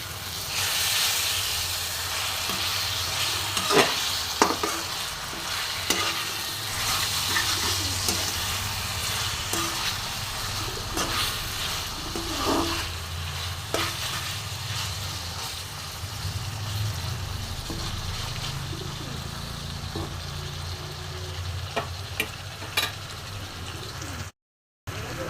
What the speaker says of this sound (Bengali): চিকেনটা আমি কষানো মশলার মধ্যে এবার দিয়ে দেব। এবার মশলার সাথে আমি চিকেনটা খুব সুন্দরভাবে কষে নেব